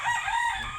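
A pumpkin hennie rooster crows in a small backyard chicken pen. The call is loud and close, a sustained harsh cock-a-doodle-doo that fills the whole moment.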